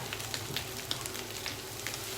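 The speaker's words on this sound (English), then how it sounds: "Can you hear that sizzling and all that steam?" Plaice fillets sizzle and steam in a hot frying pan, a steady, soft crackle with scattered small pops and no voices.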